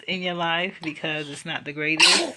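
A sharp, sudden sneeze bursts out at the end of a stretch of someone talking.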